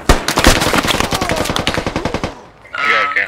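Rapid automatic gunfire in a multiplayer shooter game, heard as a loud, close string of evenly spaced shots for about two seconds before stopping, followed briefly by a voice.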